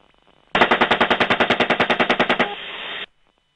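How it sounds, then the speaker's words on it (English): Heavy automatic gunfire from a helicopter gunship firing on a van in Iraq, a rapid loud burst of about twenty evenly spaced shots lasting two seconds, followed by a harsher sustained roar that cuts off abruptly. "Go ahead, shoot it."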